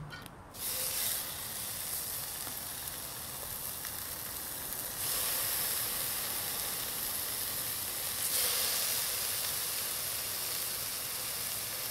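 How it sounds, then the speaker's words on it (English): Halved bacon strips fry in a pot, giving a steady broadband sizzle and hiss that jumps louder at two points as more meat hits the hot fat, with no talking. "Now we're gonna get this bacon going."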